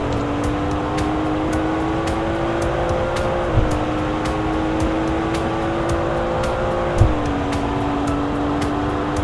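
A simulated Aston Martin engine in the Roblox game Greenville hums at a steady idle or cruise, with a continuous tonal drone that shifts pitch slightly a couple of times, alone without talk.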